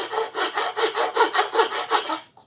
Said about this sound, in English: I'm just going to use this nice straight file here